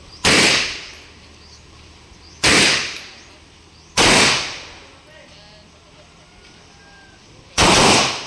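Four sharp gunshots ring out at irregular intervals, each a loud broadband crack with a short decaying tail, over a quiet outdoor background.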